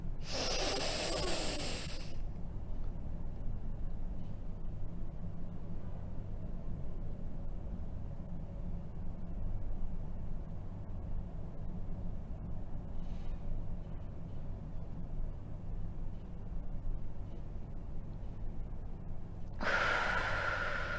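A breath drawn in through the nose at the start of a breath-holding exercise, a brief hissing sniff followed by long quiet while the breath is held, then another short airy exhale near the end.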